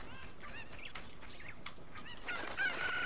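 Cucco chickens in The Legend of Zelda: Ocarina of Time give repeated honking clucks and squawks, faint and scattered over game background sounds, growing a little louder toward the end.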